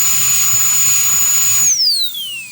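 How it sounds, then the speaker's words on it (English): A high-pitched dental drill whines steadily as its burr works on a crown preparation, then the pitch sweeps downward as it spins down near the end; close and loud, no talking. "I'm gonna touch it with the burr"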